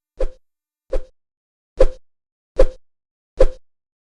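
Sword swing attack effects from a Godot-made video game: five short, punchy whooshing thuds, nearly identical, spaced evenly about a second apart against silence.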